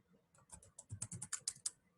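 A kubectl command is typed on a computer keyboard, a quick run of about a dozen soft, close keystrokes at low volume.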